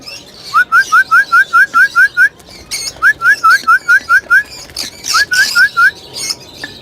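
Lovebirds and budgies in an aviary breeding setup give repeated bright rising chirps in quick rhythmic runs, loud and close, with softer chatter and calls from other birds behind.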